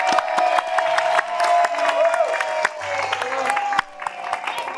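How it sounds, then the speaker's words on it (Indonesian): Studio audience on a dating game show clapping and cheering for a contestant, a dense burst of applause under a host's voice and music, with sharp claps standing out. "Boleh kita berikan tepuk tangan sekali lagi untuk Isan."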